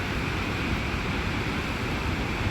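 A waterfall rushes in a steady, dense roar of broadband noise with no break, close and fairly loud, its misty spray sounding alone without any voices.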